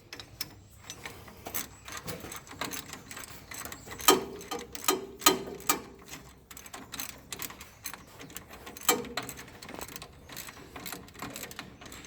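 A ratchet tightens the top bolts on the pick-up teeth of a New Holland BB940A baler, with irregular bursts of rapid clicking and metallic clanks, fairly close but quiet.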